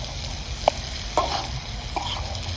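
Tomatoes and peas stir-fried in a pan for paneer gravy, a steady low sizzle with a few sharp scrapes of a spoon against the pan at irregular moments.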